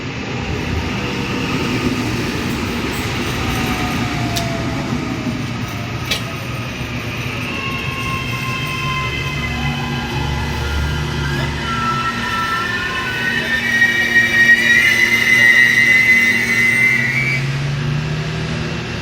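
AM class electric train on Auckland's Eastern Line passing Westfield Yard at speed, a steady close rumble of wheels on rail with rising and falling motor whines and a few sharp clicks, no voices.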